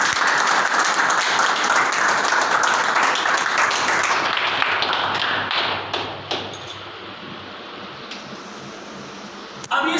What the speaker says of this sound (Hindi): एक और जोरदार तालियां सभी के लिए